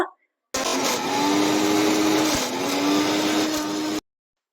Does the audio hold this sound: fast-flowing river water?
no